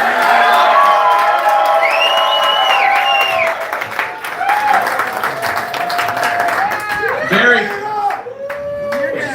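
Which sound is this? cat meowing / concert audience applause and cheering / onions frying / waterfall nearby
concert audience applause and cheering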